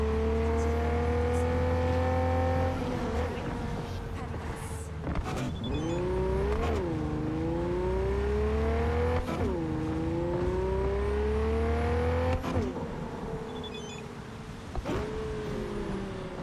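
Car engine in Cyberpunk 2077 driving, revving up and dropping in repeated rising sweeps as gears change, steady close whine with some road noise and no voices.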